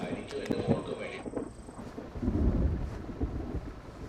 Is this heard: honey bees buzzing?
no